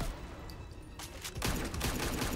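Rapid bursts of gunfire from Deadshot's rifle in the fighting game Injustice 2, faint and distant, a sharp crack followed by a denser volley of shots in the second half.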